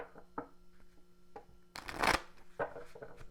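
A deck of oracle cards is riffled and shuffled close up in a quiet room, with soft card taps leading into one dense, loud burst of shuffling, then lighter handling.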